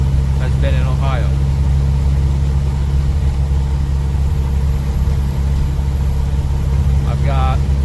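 A Mahindra Roxor cruising down a highway, its steady engine drone and road rumble loud and continuous throughout, with a couple of brief voice fragments over it.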